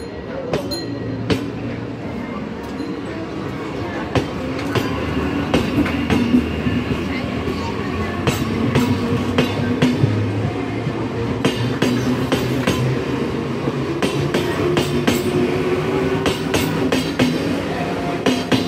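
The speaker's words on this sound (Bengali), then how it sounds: "ওই যে সামনে দেখা যাচ্ছে আসছে 31524 শান্তিপুর শিয়ালদা লোকাল।" The 31524 Shantipur–Sealdah local, a three-phase rake, approaches with a steady heavy rumble and a dense run of rhythmic wheel clicks that grows slightly louder, while a voice talks over it at times.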